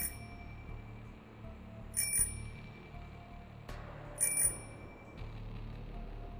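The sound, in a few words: bicycle bell ringing in the dark, horror story sound effect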